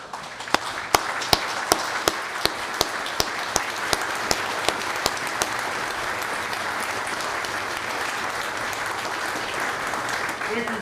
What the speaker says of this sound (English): This applause well deserved.